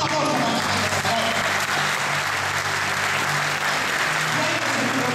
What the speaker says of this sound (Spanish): Un aplauso para la gente, por favor.